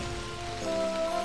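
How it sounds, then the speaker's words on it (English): Heavy rain falls in a children's dinosaur cartoon, a dense, steady hiss of downpour heard close and alone for a brief moment, with a faint tone running underneath. "Oh, it's raining heavily."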